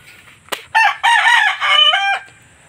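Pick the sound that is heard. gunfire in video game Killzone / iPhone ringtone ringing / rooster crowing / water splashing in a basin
rooster crowing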